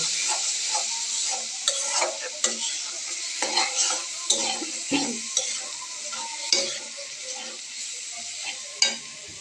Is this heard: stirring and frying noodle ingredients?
yes